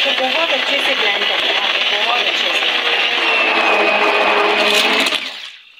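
Blender whirring steadily as it blends shredded chicken for Lahori hareesa, a loud continuous motor drone for about five seconds that then winds down, with a voice talking over it.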